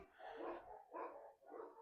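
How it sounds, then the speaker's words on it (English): A dog barks three times in a row, somewhat muffled and moderately close, each bark full and rounded with short pauses between. "sorry about the barking, guys."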